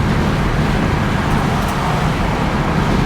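A 1977 Oldsmobile Cutlass Supreme Brougham coupe with a V8 cruises along, heard as a steady loud interior road and engine drone with no talk.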